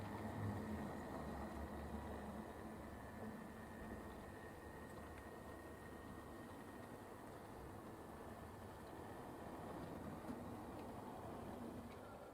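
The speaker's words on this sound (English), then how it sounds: "Just going to bring another locomotive in, this time the IVAT. It's creeping in under the bridge." A 00 gauge model locomotive creeps in under a bridge on a home layout, giving a faint, steady mechanical hum and rolling whir that stays even throughout with no voices.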